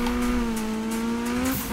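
A Honda Civic in Need for Speed (2015) holds a steady, droning engine note at sustained revs, close and loud, with no talking over it.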